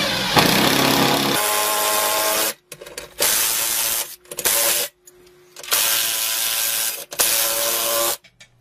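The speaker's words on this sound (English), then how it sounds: "if you have a drill like this, it's much quicker" A power drill driving bolts to mount a wall pull-up bar whirs in repeated bursts, each several seconds long, with its pitch dropping under load and short silent gaps between runs.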